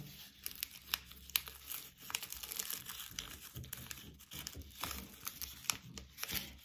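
Paper folded in half by hand, heard as close, quiet crinkling and rustling in several short bursts.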